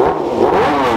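A superbike with an aftermarket exhaust system revs hard, producing a loud, continuous, rising engine roar close by, with no voices.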